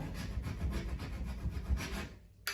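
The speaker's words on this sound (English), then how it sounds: "Then I use the back of the hammer to scrape it." Rough, rhythmic rasping of a hammer's metal back scraping across wood wall paneling, a quick run of repeated strokes up close, then a pause and one last sharp scrape.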